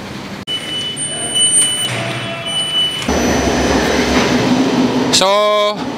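A metro train at a station in Villa San Giovanni rumbles close by, with steady rolling noise, high whining tones and a rising electric motor whine near the end, loud over faint background voices.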